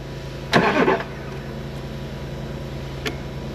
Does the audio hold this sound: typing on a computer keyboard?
no